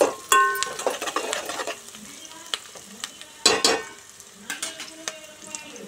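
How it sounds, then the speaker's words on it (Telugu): Onions frying in oil in a pan for chicken fry, with sharp stirring and scraping bursts over a soft sizzle, close and loud with quieter gaps between strokes. "నూనె వేసుకొని ఉల్లిపాయలు వేసుకొని వేయించుకుంటున్నా చికెన్ ఫ్రై కోసం."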